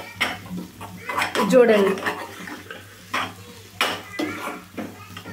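A spoon scrapes and clanks against a pan as egg is stirred into spicy egg poriyal, bursts of stirring over a faint sizzle, with a voice speaking briefly.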